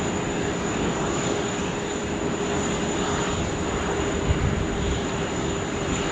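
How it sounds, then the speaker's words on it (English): A Qantas Airbus A380 departing Sydney Airport gives off a broad, steady jet roar, loud and continuous throughout with a faint tonal whine riding on top. "Bit of A380 action for your afternoon there"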